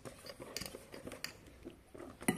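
A utensil scrapes and clinks against a mixing bowl as hot cake batter is stirred, a quick irregular patter of light taps, close but faint.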